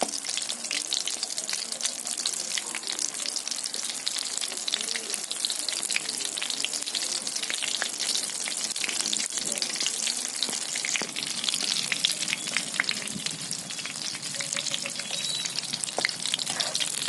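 Mirchi bajji, chili fritters made without soda, sizzle steadily in hot oil as they cook until brown, a dense, continuous crackle with occasional stirring and a faint trickle of water, no voices.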